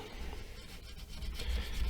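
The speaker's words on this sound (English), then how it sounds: "just a very light little bit of sanding too" Close, soft rasping strokes of light sanding on a guitar's wooden fretboard, a steady back-and-forth rub that grows slightly louder toward the end.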